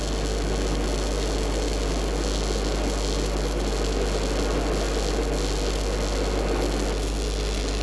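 Stick electrode arc welding of a first bead, a steady, dense crackling hiss with a constant electrical hum, loud and unbroken from start to finish, no voices.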